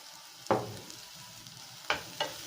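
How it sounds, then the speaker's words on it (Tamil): Capsicum being sautéed in a pan for masala Maggi, with a low steady sizzle broken by three sharp scraping stirs of the spatula, one early and two close together near the end, and no voices. "இப்போ நம்ம கேப்சிகம் போட்டுக்கலாம். வதக்கிக்கலாம்."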